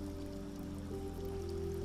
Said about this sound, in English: Let the sound of waterfall and the ambience of this place bring you peace